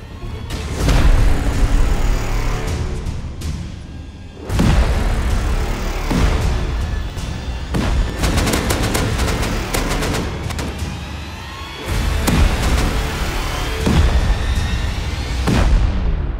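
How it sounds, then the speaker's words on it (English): Heavy gunfire rattles through a video game raid, dense bursts of shots and booms packed together, loud and continuous with brief lulls between volleys. "Where was I even being shot from?"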